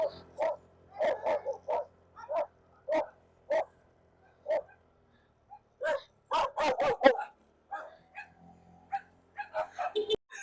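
Dogs bark in repeated sharp bursts, some rapid and overlapping, with brief whimpers and yips between, fairly close.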